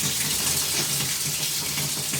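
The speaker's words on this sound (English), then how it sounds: "We're going to give about a minute or so to run water through it." Water gushes steadily through newly connected water lines in a small barndominium, a loud, continuous, close rush with no pauses and no talking.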